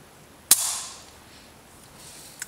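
A CZ75 Accu Shadow pistol dry-fired with a stock trigger: one sharp, crisp click as the trigger breaks, followed by a faint, softer click as it resets, heard alone in a quiet room.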